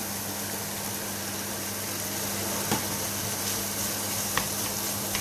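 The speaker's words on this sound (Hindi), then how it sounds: "फिर हम इसके अंदर ये चॉप आलू फ्राई डालेंगे।" Chopped fried potatoes tipped into a sizzling spicy samosa filling in a pan, a steady close frying hiss with a few faint clicks of stirring and no talk.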